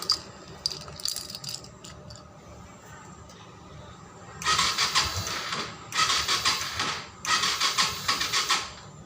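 A Byson motorcycle fitted with a PWK 26 carburetor being started, with faint rattles and clicks first, then three loud bursts of rough, sputtering engine noise close by, each cutting off after a second or two.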